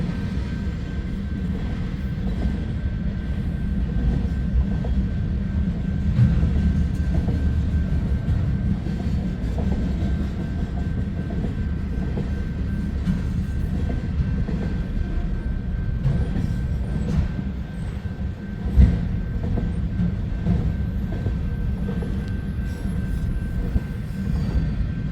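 A Conrail locomotive leading a freight train rolls past, its rumble and wheel noise steady and fairly close throughout, with a faint tonal hum over the top and no talk.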